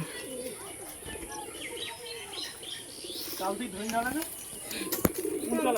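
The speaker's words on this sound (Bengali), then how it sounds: "দেখুন পায়রাগুলো" Low rolling coos from many pigeons released on a rooftop repeat under nearby talking, with a few brighter chirps and a sharp clatter near the end.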